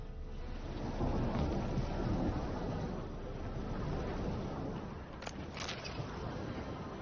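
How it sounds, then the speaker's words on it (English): Rain pours steadily during a thunderstorm in The Witcher 3, a dense, continuous wash with a deep rumble building early on and a couple of brief sharp sounds near the end, with no talking. "A storm, damn it."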